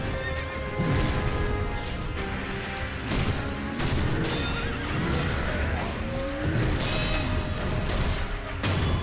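A horse in a video game neighs repeatedly in loud, close whinnies over clip-clop hoofbeats and occasional crashing impacts, with the whinnies recurring every second or two.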